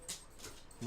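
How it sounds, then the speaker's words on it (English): A pet dog whimpers and yelps in brief upset bursts close to the microphone, heard under someone talking indoors. "My dog is getting upset."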